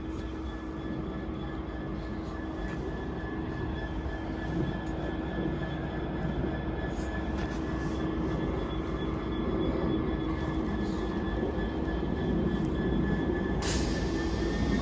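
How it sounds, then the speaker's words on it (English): A train on the Chat Moss line draws to a halt at platform 4, giving a steady rumble with a constant tonal hum and faint high whines that hold at moderate volume. Brief clanks and hisses come near the end. "the train now approaching platform 4 does not stop here, so, and then it stopped"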